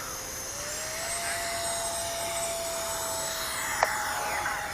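A Rebel V2 RC airplane on a 5-cell battery flies past steadily, its electric motor whining at a rising then held pitch, fairly loud and continuous with no talk.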